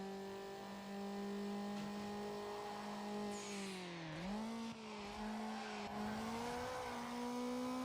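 A race car in Need for Speed Underground accelerating hard on nitrous, its steady high-pitched engine drone dipping briefly and then climbing again, loud and continuous throughout.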